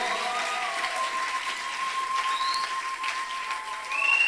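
A church congregation at a Sunday worship service claps and cheers in a dense, continuous wash of applause, with a faint whistle-like tone running through it.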